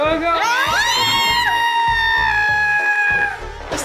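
Screaming voices in the video game Conker's Bad Fur Day, shrill and wavering pitch over a pulsing low thump, loud and sustained for several seconds before cutting off.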